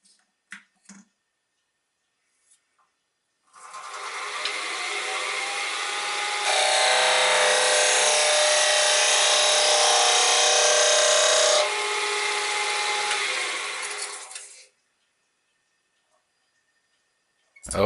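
A wood lathe turns a piece of wood as it is shaped by hand, a steady loud scraping hiss that grows harsher in the middle and stops after about eleven seconds.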